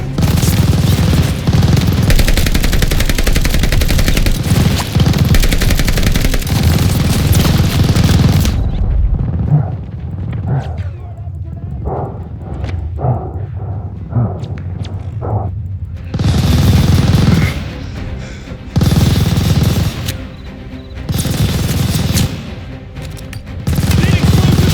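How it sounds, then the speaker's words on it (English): Machine gun fire in the Call of Duty Vanguard video game, loud sustained bursts and booming explosions that drop away for a stretch of sparse shots and shouted voices, then return in heavy bursts. "We need to clear the MG!"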